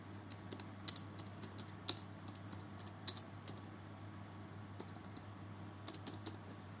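Keys clatter on a computer keyboard as JavaScript code is typed, quick soft clicks in short irregular bursts over a faint steady hum, with no voice.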